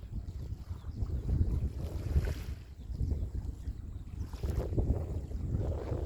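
A small fishing boat sits out on the water, giving a steady low rumble and lapping with wind buffeting the microphone and no speech.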